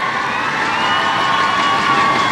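A crowd in an arena at the wushu finals of the 29th SEA Games 2017 cheers loudly and continuously, a dense roar of voices with shrill shouts running through the whole stretch.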